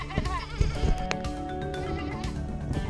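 Sheep bleat in short wavering calls, several overlapping nearby, with a steady outdoor wind-like rumble underneath and no talking.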